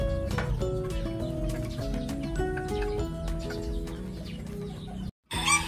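Bantam chabo chickens clucking busily at feeding time, many overlapping close calls in a steady chatter that cuts out briefly near the end.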